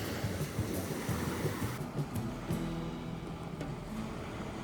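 Sea waves wash in and out at Obelisk beach, pulling sand from under the feet, a constant broad surf roar heard close up.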